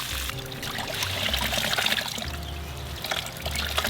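Dirty water is dumped out onto grass as a steady, continuous trickling pour that lasts throughout, with low rumbling underneath.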